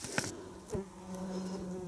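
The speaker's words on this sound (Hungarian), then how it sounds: "közben a legyeket hessegetem" Flies buzzing close by while being shooed away during a countryside cycling tour in Hungary, a faint steady drone with a few brief louder swells.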